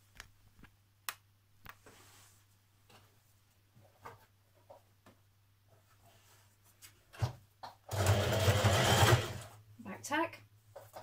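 A sewing machine stitches a curved seam on a vintage-style apron in one loud, steady run of about a second, with quieter clicks and handling noises and a low constant hum before it and soft rustles after.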